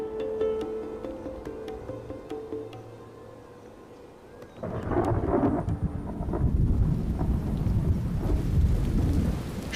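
Monsoon rain with thunder in Sri Lanka: a quiet stretch gives way to a sudden, loud burst of heavy rain and rolling thunder that stays dense and steady to the end, with no voices.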